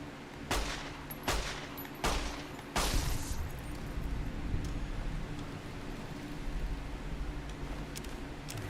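Several loud gunshots in Fallout: New Vegas strike wood, four sharp cracks spaced about a second apart at the start, followed by a steady hum of game ambience.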